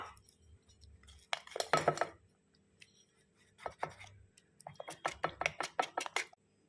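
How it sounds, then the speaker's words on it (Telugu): Cauliflower and potato pieces being stirred through a sticky cornflour batter in a bowl, with irregular wet clinks and scrapes in short clusters, fairly close and alone. "ఇలా లమ్స్ లేకుండా కలుపుకోవాలి మనము బాగా"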